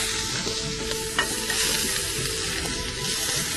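Paneer sizzles and fries on a hot tawa griddle, a steady close crackle with faint stirring scrapes running throughout, no talking over it.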